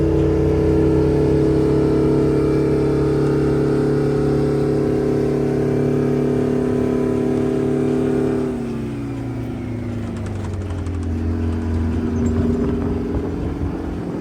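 A John Deere 5020 tractor repowered with a bus diesel engine idles with a steady deep drone, close by, then drops in pitch and settles into a lower, rougher rumble.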